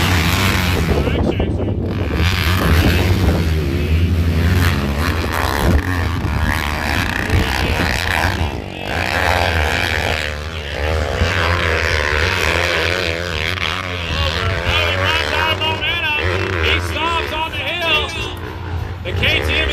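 Side-by-side utility vehicles roar up a steep hill climb at The Great American Hill Climb, their engines loud and continuous under a busy crowd and wind buffeting, with a commentator talking over the racket.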